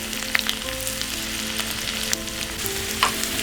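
Cumin seeds, crushed garlic and dried red chili frying in hot oil give a steady close sizzle with scattered crackles and pops, no voices.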